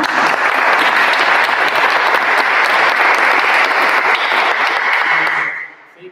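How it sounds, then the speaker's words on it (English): Audience at a graduation recital gives sustained, loud applause that holds steady for about five seconds before fading out into quiet. "Round of applause for that."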